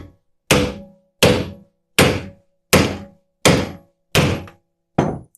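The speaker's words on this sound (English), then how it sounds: "And we'll tap it on there gently." A hardwood maple board tapped onto a WEN 12-inch drill press, seven sharp wooden knocks at a steady pace of about one every 0.7 seconds, close and loud with short decays and no talking.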